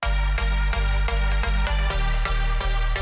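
Chords bounced in Ableton Live, layered with a heavy sub bass: a loud, close rhythmic loop of re-triggered chords over a deep, sustained low end pulsing on each hit, with no speech.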